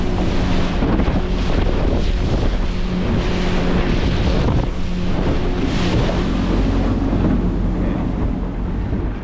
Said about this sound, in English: But I think this wind will keep them at bay.